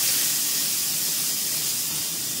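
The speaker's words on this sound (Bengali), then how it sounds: "আলুটা আগে একটু ভেজে নিচ্ছি" Potatoes frying in a pan for an okra and potato curry, giving a steady, close, broadband sizzling hiss that runs without a break and with no voices.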